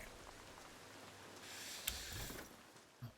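Rain falls in the survival video game Once Human, a faint, steady patter and hiss of drops with a few louder splashes, no voices.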